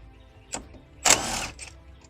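A hand wrench ratchets on a bolt of a Foxbody Mustang, two short clicking bursts followed by a longer, louder grinding ratchet run and a few fainter clicks, close up with no talk.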